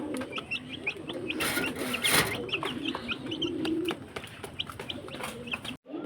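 Backyard chickens cluck and call steadily while being fed in the morning, with soft bird chirps mixed in against a busy outdoor background.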